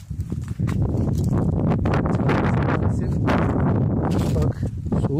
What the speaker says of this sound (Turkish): Bak soğuk burası, rüzgar oldu.